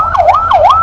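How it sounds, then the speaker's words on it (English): An emergency response unit pickup's siren wails in street traffic, loud and close, its pitch sweeping up and down in a steady rising-falling cycle over a low traffic rumble. "What the siren being blown there is about"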